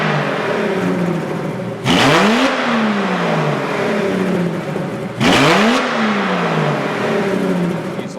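Loud Aston Martin Vanquish V12 engine revving twice, each rev rising sharply then falling back, with a rough, raspy exhaust note between from two out-of-phase banks of six cylinders.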